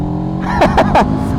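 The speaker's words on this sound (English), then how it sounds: "I'm going to rip the throttle open a little bit." A CFMoto CL-X Sport motorcycle accelerates hard at full throttle in third gear, its engine note surging in three quick rising bursts over steady road and wind roar.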